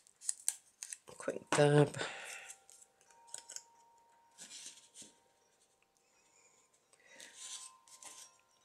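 Scissors make a short, crisp snip up close while cutting the ends off paper for a handmade accordion pocket letter. Quiet rustling follows, and a person speaks briefly.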